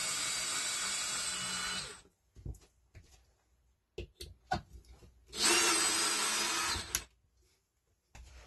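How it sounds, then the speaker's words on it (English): A power drill unscrews screws from a plywood ceiling access panel in two close, loud bursts of whirring, separated by quiet clicks and rattles of handling. "Unscrew the panel to be able to feed the cable underneath."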